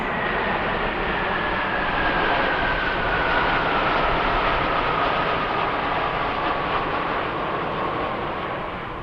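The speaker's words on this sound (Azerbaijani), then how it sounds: "Növbəti Su-25 hücumçu təyyarələr qrupu." Su-25 attack jets fly over a military parade in Baku, their steady broadband roar filling the air as a slowly falling engine whine sweeps past overhead.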